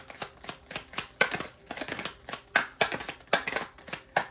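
Tarot cards shuffled by hand, close and fairly quiet, in a quick run of crisp riffling bursts with brief pauses between them.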